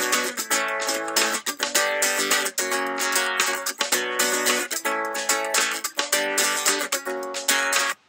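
Looped two-bar chord progression played back in Logic, repeating sustained chords with regular rhythmic re-attacks, full and clear with no voices over it.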